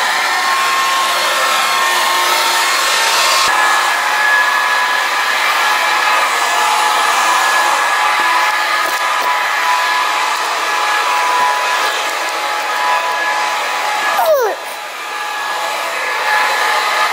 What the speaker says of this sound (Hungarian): Megvan a porszívó, úgyhogy gyorsan porszívózni, mielőtt a feleségem kijön.